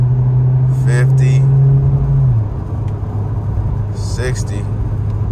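A car out on a test drive at a dealer auto auction, its engine rumbling and whirring steadily as it gathers speed, with a short drop in pitch partway through, under brief talk inside the cabin.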